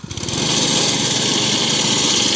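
A Husqvarna grass sod cutter's small engine starts and runs at a loud, steady, buzzing drone close by, with no voices.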